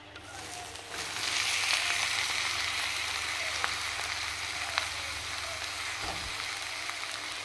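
Bitter gourd and potato hit a hot pan and fry with a loud, steady sizzle that holds throughout, with a few faint clinks along the way and no talking.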